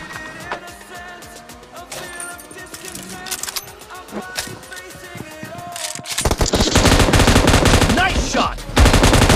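Rapid machine-gun bursts and single gunshots ring out in a shooting video game, dense and loud, with the firing growing heavier and more continuous near the end, mixed with faint game effects and scattered voices.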